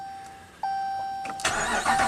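A Ram pickup truck engine cranks briefly and catches, then settles into a steady idle.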